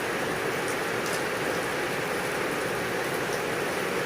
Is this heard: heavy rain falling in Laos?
yes